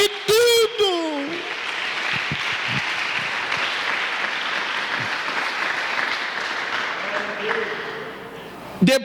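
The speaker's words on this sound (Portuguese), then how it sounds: "Aplauda o Senhor, porque Ele cuida de tudo." A church congregation claps together in sustained, dense applause that fills the space at steady loudness, with a voice heard briefly at the start and end.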